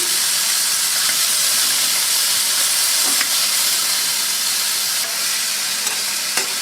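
Chicken sautéing in oil in a pan, seasoned with salt and pepper, gives a steady bright sizzle and hiss throughout, close and loud, with a few sharp pops and spatters.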